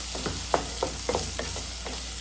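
Onions with turmeric and cooked lentils sautéing in a pan, a soft steady sizzle broken by several light scraping stirs at an uneven rhythm.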